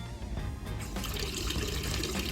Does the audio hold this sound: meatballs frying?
no